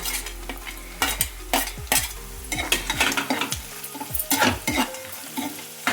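Chopped onions and cashews fry in hot oil for spinach rice, a steady sizzle broken by repeated scraping stirs of a spoon in the pan, close and fairly loud with no talk.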